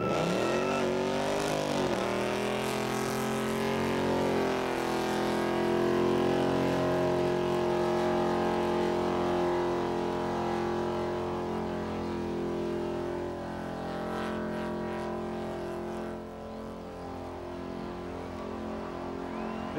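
A car doing a burnout in the Mobil 1 burnout competition at Summernats 14, engine screaming at sustained high revs with rising pitch early on, loud and continuous throughout without talk.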